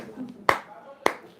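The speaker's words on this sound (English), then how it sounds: "He clapped 3 times." Two sharp hand claps ring out about half a second apart, close and crisp, with faint room noise between them.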